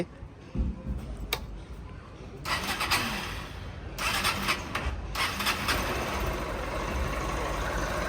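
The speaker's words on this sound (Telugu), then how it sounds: "ఎగ్జాస్ట్ నోట్ అయితే ఒకసారి విందాం ఈ బండిది" Engine of a 2023 BS7 E20 Honda Unicorn motorcycle cranks and starts, then settles into a steady, fairly loud idling exhaust note heard close by, with broadband bursts as it catches and revs slightly.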